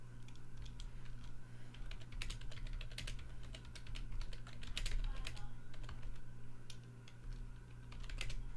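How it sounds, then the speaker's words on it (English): Rapid typing on a computer keyboard, a dense run of quiet clicking keystrokes with brief pauses, heard faintly over a low steady hum. "I'm finishing sending what I was typing."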